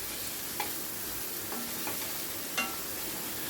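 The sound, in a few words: stirring and frying masoor lentils in a wok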